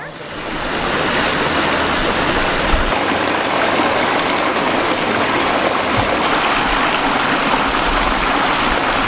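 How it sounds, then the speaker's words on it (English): Water rushing steadily through Red Hill Creek, a dense, continuous broadband wash that stays loud and even throughout, with no clear voices above it. "why are we standing here in the Red Hill Creek?"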